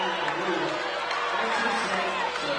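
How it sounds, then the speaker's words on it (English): A packed high school gym crowd at a Lyon County versus Trigg County varsity boys basketball game roars in a steady, dense wall of noise after a foul call, with a commentator talking over it. "the Lyon County crowd is about to riot"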